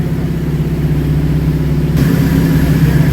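A K-series car engine with a cut, near straight-pipe exhaust, running slightly lean, idling loud and close with a deep, throbbing, uneven rumble that grows a bit rougher partway through.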